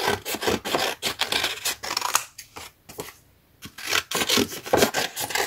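Scissors snipping through paper die cuts in steady, close rasping strokes, with a brief pause in the middle before the cutting resumes.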